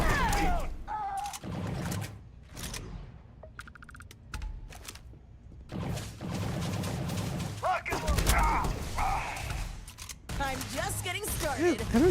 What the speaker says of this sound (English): I don't know what guns they're using, but they sound pretty dope